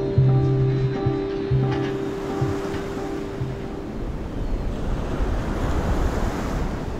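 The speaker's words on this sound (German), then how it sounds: "Und dann die Nähe des Meeres." Sea waves wash onto the coast amid gusting wind, a steady loud surf roar with wind buffeting the microphone and a faint low tonal hum early on.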